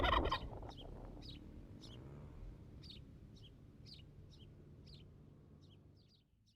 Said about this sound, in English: All in all, they're pretty calm turkeys.